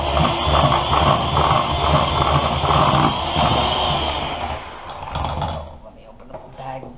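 A handheld electric mixer whirs steadily, beating butter for homemade buttercream frosting, its motor drone loud and continuous before easing off and stopping near the end.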